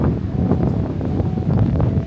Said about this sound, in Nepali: मस्त हावा लागिरहेछ।